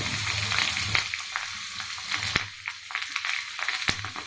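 Urad dal, asafoetida powder and green chilli fry in hot oil in a pan, a close, steady sizzle and crackle with a few sharp pops.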